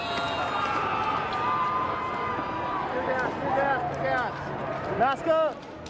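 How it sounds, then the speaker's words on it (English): A protest crowd on a riot-torn Los Angeles street lets out rising, wavering war cries and whoops over a background of general crowd noise, the shouts bunching louder toward the end. "Oh, they got war cries."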